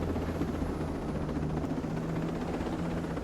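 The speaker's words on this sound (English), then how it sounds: "Get in the helicopter." A video game helicopter drones steadily with a continuous rotor hum and whirring engine, moderately loud and unbroken, with no talking over it.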